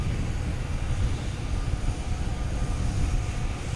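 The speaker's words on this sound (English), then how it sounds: "do have a Delta getting ready to take off here" A Delta airliner readies for takeoff at Boston Logan, its engines giving a steady, heavy rumble with a broad roar that holds constant throughout, fairly loud and without any voices.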